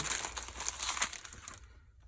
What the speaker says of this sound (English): this might be a little bit messy, but excuse the rustling